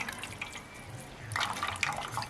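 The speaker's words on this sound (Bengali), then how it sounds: "একটি অন্য পাত্রে আমি আলুটা ভালোভাবে ছেঁকে তুলে নেব" Raw potatoes are strained into another bowl, water splashing and trickling off them in a short close burst that grows louder in the second half.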